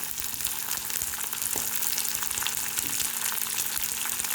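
Onion and capsicum frying in a pan for a spiced rice dish, a close, constant crackling sizzle with a faint steady hum beneath and an occasional soft stir or clink, no voices.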